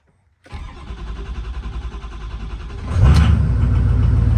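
A 6.0 diesel truck engine cranks with a rapid pulsing starter rhythm for a few seconds, then catches and fires into a loud, deep steady idle rumble, close up.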